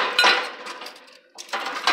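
A plate is set back into a newly unboxed microwave, giving a few close, sharp clinks and hard knocks with a short pause between them. No one speaks.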